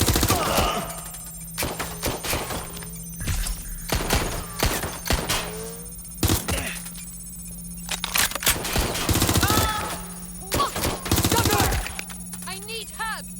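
Rapid bursts of machine-gun and rifle fire in the Watch Dogs Legion video game set in London, loud and near, broken by sharp cracks and thuds, with voices shouting between and over the shots.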